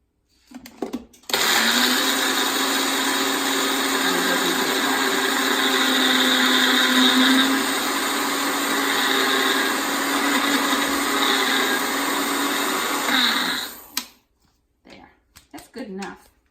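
A countertop blender grinds oatmeal and seeds in one steady, loud, high-pitched whir lasting about twelve seconds, then cuts off, leaving a few faint handling noises.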